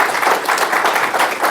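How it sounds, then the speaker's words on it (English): Brisk applause from an audience at a panel discussion on longevity and health, a dense, close burst of many hands clapping that stays loud throughout the short span. "Big round of applause."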